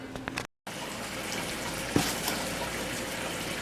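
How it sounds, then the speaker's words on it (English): Water runs from a tap in a steady, soft gush for measuring rice, with a brief interruption near the start and a small clunk partway through. "next you're going to measure out your rice and water"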